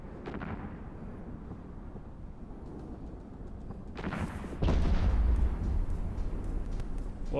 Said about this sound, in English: it sounded like explosions on my own ship